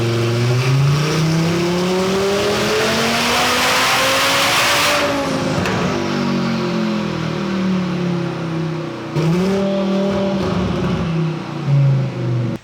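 A tuned Audi RS3 engine revs hard through a pull, its pitch climbing loud and steady, dropping on a gear change, then rising again, with sharp exhaust crackle near the end; no voices.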